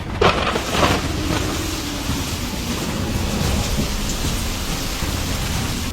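Heavy rain pours steadily through a stormy night at a roadside dhaba, with low rumbling thunder underneath, a dense, loud, unbroken wash of sound.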